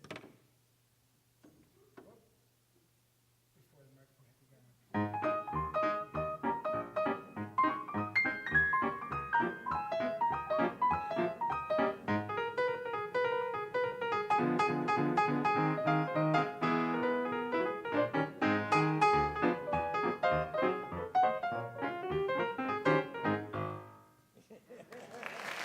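Stride piano plays lively variations at a Friday night jam show, a dense, continuous run of bouncing chords and melody that starts after a quiet few seconds and carries on for about twenty seconds before fading.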